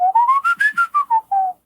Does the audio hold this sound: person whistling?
yes